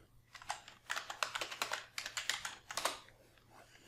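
Quick bursts of keystrokes on a computer keyboard, soft close clicks coming in uneven clusters with short pauses between runs, over a faint low hum.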